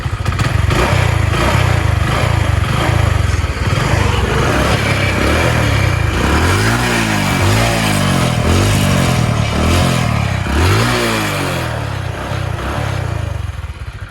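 A Hero Honda Passion Plus petrol motorcycle engine idles loudly up close, then revs in a series of rising and falling surges before settling back to a steady run.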